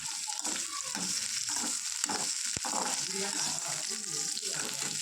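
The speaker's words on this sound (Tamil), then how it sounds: "வெங்காயம் ரொம்ப வதக்கிட வேண்டாம்" Onions and curry leaves sauté in a pan with a steady, close hiss of frying. Occasional stirring scrapes break through, and a person talks over the sizzle.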